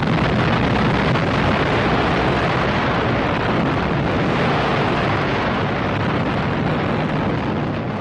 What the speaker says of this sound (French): Elle explose une quarantaine de secondes plus tard, à 600 mètres au-dessus de Hiroshima.